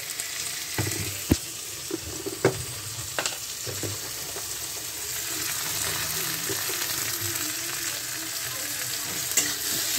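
Amaranth greens fry in a pan with onion and tomato, giving a steady close sizzle broken by occasional sharp clicks and scrapes of stirring.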